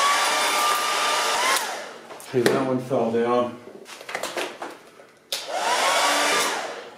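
A hair dryer blows hot air over the parts of a Singer 319K sewing machine during cleaning, a loud close steady roar that cuts off, pauses while a person speaks, then starts up again.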